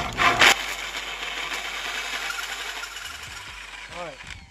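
Power tool cutting a 3 inch hole for a Honda/Acura AWD arm, a close, continuous grinding and rasping drone that holds steady for several seconds before slowing near the end.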